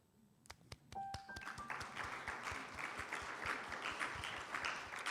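A church congregation applauds during a Unitarian Universalist worship service, a steady wash of many hands clapping that starts after a few sharp isolated claps and carries on evenly for several seconds.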